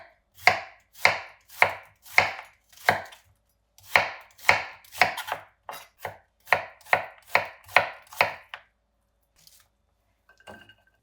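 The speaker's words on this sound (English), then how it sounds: "First off, the onion. And we're simply going to cut this into thin slices about 1/4 inch thick." A knife slicing an onion lengthwise into thin quarter-inch slices on a cutting board for gyudon, about a dozen crisp, evenly spaced chops close by, then a pause and a few faint clicks, with no talk.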